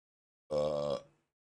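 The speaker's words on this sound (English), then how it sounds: "Hold on, I got a burp." A single long, loud burp after eating a pork bun, a deep voiced belch lasting about half a second that trails off quickly, alone in the quiet.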